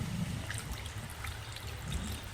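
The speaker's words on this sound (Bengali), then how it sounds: "এবার আমি এর মধ্যে অ্যাড করছি গরম জল।" Hot water trickles and pours into potato curry in a pan, a steady low splashing and gurgling stream close by, with no talking.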